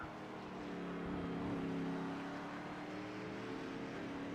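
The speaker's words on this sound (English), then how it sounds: "His car sounds good." A K&N stock race car engine runs on the oval at Charlotte, a smooth sustained drone that swells slightly and eases off, heard faintly at a distance with no talk over it.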